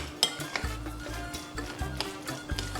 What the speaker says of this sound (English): So we're just going to soften this a bit with a spoon.